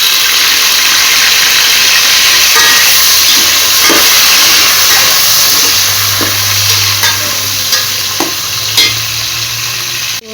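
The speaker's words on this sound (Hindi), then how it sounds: "टमाटर कटे हुए वो मैंने ऐड कर दिए" Chopped tomatoes hit a hot pot of spiced beef pulao and sizzle loudly and steadily, with occasional stirring scrapes and a low hum from the stove or a nearby appliance underneath.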